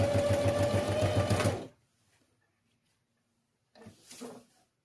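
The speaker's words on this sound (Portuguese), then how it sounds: "Novamente, eu fiz a costura de pesponto." A sewing machine runs a fast, buzzing burst of stitching on a pencil case lining for under two seconds, then stops; after a quiet pause comes a brief soft rustle of handling.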